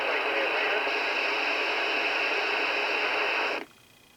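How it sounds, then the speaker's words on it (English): Steady broadband hiss of background static and faint far-off transmissions on a GE General Electric 3-5813A CB radio, loud and continuous for over three seconds before cutting off abruptly to near silence. "hear that noise in the background? Those are from far away transmissions or just radio noise."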